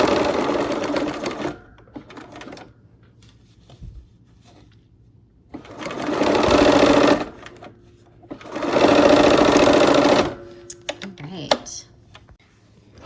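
A sewing machine stitching the last seam of a Christmas quilt block, running in three sustained whirring bursts of a few seconds each, close and loud, with quiet handling noises and brief talk in the pauses.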